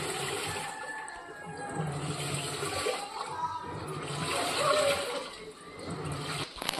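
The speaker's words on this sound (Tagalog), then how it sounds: "ginamit ko talaga yung automatic washing ko" Automatic washing machine rinsing laundry, with a continuous churning slosh of water moving through the drum at moderate level; a voice speaks faintly underneath.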